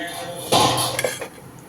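Metal spoon scraping and clinking against a pan while pea and potato masala is stirred over high heat, a burst of loud clattering in the middle of the clip after a quieter start.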